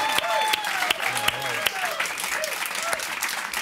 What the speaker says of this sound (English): warm round of applause for Kareem